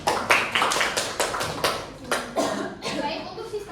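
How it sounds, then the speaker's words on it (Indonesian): A school class claps after a group presentation, a handful of sharp, uneven claps in a loose rhythm, close by, while children talk and chatter around them. "Beri tepuk tangan dulu dong."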